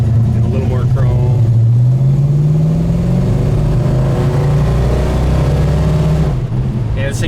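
A 1970 Plymouth Road Runner's engine drones steadily while the car cruises down the road, a low rumble holding loud and close throughout with a slight rise in pitch midway.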